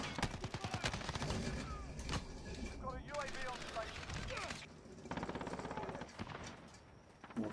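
Rapid bursts of M4 rifle fire in a video game, crackling shots repeating throughout under continuous talk from a player.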